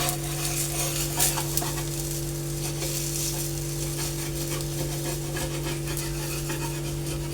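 Gram flour chilla frying in oil in a pan gives a steady, close sizzle with faint scraping and utensil contact over a constant background hum, no talking.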